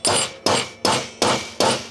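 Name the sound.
center punch hammered into PC case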